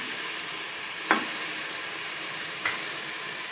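Beef trotters curry sizzling in a pan as red chili is stirred in, a steady hiss with two brief scrapes of a spoon against the pan.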